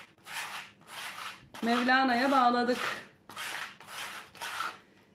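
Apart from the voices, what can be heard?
sanding a knitted shoe sole with sandpaper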